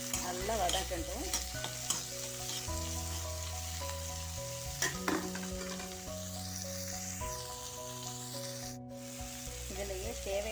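Mint, coriander, garlic, ginger, green chilli and tomato sauté in a pan, a steady close sizzle with scraping stirs, alongside a prominent sustained tonal hum that shifts pitch in steps.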